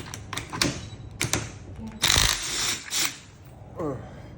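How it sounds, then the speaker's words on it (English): Impact wrench rattling in short bursts on an upside-down fork of a 2017 Harley-Davidson Street Glide during a fork oil and seal change, a longer burst in the middle, with workshop clatter around it. "Take your impact wrench."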